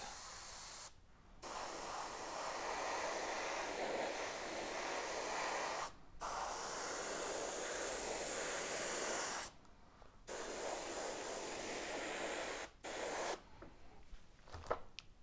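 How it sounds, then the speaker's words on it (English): An airbrush sprays paint onto a model building in long continuous hissing bursts, with several short pauses between passes, steady and close. "When applying the lights using airbrush, I tend to focus on the corners of the building and all the surfaces."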